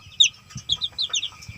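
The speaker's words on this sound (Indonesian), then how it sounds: "anak ayam yang kecil" A young Bangkok chick about one week old gives a series of high, thin peeping chirps in short bursts, fairly close and clear, with low background rumble and no talking.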